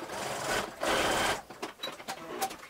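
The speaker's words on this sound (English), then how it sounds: "So I'm putting the elastic under the presser foot, and then I'm going to be zigzag stitching these ends together." A home sewing machine zigzag-stitches the ends of elastic together: two short bursts of rapid mechanical whirring, followed by soft handling clicks and rustles, close up.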